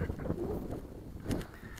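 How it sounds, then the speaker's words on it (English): Gusty outdoor wind buffets the microphone at a field where a Graupner Fokker Eindecker model plane is flown, giving a steady low rumble that swells briefly, with no talk. "Yeah, it's the wind,"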